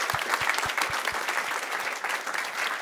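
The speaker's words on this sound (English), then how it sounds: "I think we will give Thomas a big applause." A brief burst of audience applause at the Demo North Summit in Gällivare, Sweden: many hands clapping at an even, moderate level for a few seconds, with a few low thumps early on.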